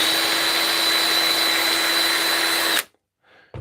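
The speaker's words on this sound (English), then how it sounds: "I just set up this trimmer." A case trimmer trims .308 brass with a steady, loud, high motor whine and grinding hiss, then cuts off abruptly, leaving a brief quiet rustle.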